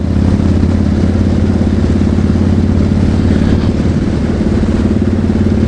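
A 2015 Harley-Davidson Street Bob motorcycle rides along, its engine a loud, steady low rumble with road and wind noise throughout and no talking.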